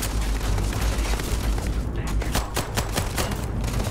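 Rapid gunfire trading in the sci-fi shooter Starfield, including a modified Grendel rifle; dense overlapping volleys of shots, loud and continuous with sharp bursts toward the end.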